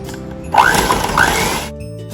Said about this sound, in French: je vais fouetter la crème épaisse pour pouvoir avoir une crème très bien fouettée